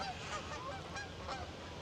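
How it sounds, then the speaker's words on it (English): Canada geese honk repeatedly as they fly overhead above trees on an island, their calls steady and fairly close against a constant outdoor background. "Look at the Canada geese, everybody."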